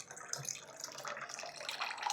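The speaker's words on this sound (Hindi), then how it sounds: "अब छन्नी में से हमको उसको निकाल लेना है और पूरा पानी जो है इसमें से छान लेना है।" Boiled noodles tipped into a strainer as their cooking water drains away, a steady close hiss and splash of running water with no pause.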